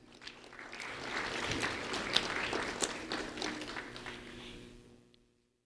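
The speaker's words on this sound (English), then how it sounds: "a round of applause for Dane Heil" An audience at a sheriff's office award ceremony for a fifth-grade student breaks into applause that swells, holds as a dense wash of claps, then fades out to silence.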